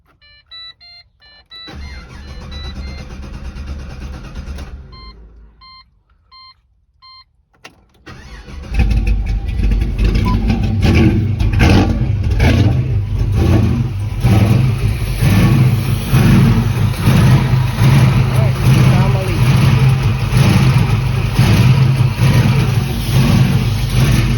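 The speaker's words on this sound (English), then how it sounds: "So I'm gonna have to fire the car up and see if I can see exactly where it's coming from." Pontiac GTO engine attempting to start after sitting unused, a short rough cranking burst, then it fires and runs loud and close, with steady revving and a rumbling idle that continue to the end.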